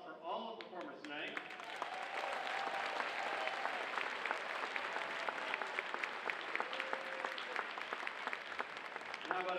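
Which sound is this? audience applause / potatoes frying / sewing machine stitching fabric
audience applause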